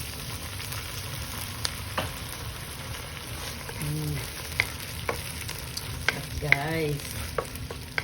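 Sardines sizzle and fry in a pan with patola and alugbati, a steady close crackle with scattered stirring clicks and scrapes, while a voice speaks briefly.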